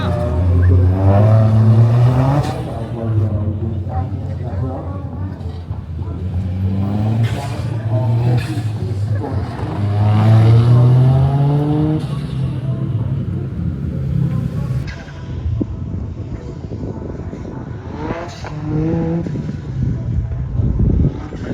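A Toyota GR Yaris launches hard with launch control at an autocross event in Pakistan, its engine revving in rising, rough bursts that rumble loudly and fairly close throughout, with a faint voice now and then.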